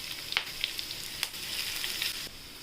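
Garlic and green chilies frying for garlic rice, an even bright sizzle with a few light clinks and stirring scrapes, close and continuous with no voices.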